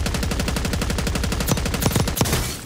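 Rapid automatic KSV fire in a battle-royale video game, a fast steady stream of loud close shots with a few sharper, heavier cracks near the end and no talking over it.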